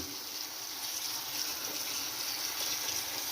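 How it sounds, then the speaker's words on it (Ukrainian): Cold water runs steadily from a tap over honey mushrooms being rinsed, with a constant hiss and splash, uninterrupted for a few seconds. "І промиваємо холодною водою"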